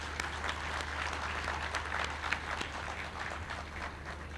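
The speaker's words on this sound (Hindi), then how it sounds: "मैं ये चाहती हूँ कि आप सब मेरे साथ मिलके तालियां बजाएं।" Audience applause at an event in Kala Shah Kaku, Pakistan, a steady dense wash of clapping from a crowd, fairly distant and even throughout, over a low constant hum.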